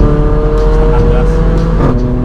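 A Mercedes GLA45 AMG making 432 wheel horsepower with an AMS kit revs at half throttle, a loud, close engine roar that rises and falls with sharp pops and crackles, while someone talks over it.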